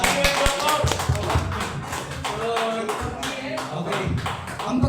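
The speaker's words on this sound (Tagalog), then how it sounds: "Ay palakpak naman ho kayo." An audience applauds Grandmaster Eugene Torre at a sports forum, a dense patter of many hands clapping close and steady for several seconds, with faint talk underneath.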